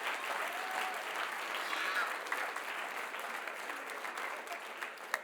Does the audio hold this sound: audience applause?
yes